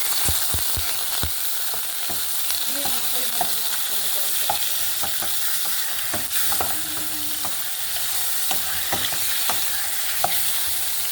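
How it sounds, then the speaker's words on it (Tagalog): Hotdogs frying in a pan at home give a steady close sizzle and crackle throughout, with scattered utensil clicks and stirring scrapes, no talking. "Luto tayo ng hotdog."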